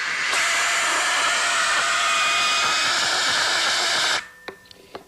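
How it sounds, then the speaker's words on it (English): A strong, steady rush of air forced through a funnel to lift a ping pong ball, a loud continuous hiss lasting about four seconds, then cutting off, followed by a few faint knocks. "Now I'm going to blow that ping pong ball out."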